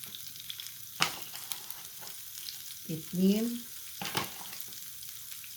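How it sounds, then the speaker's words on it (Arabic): Steady sizzling of flour frying in hot oil in a pan, with a few scraping stirs and a short spoken remark partway through. "وهنقلب كده الدقيق في الزيت"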